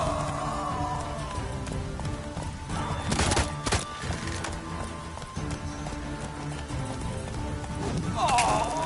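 Roach the horse gallops in Witcher 3, a steady run of hoof clip-clops close by, with a few sharp knocks and a background voice underneath.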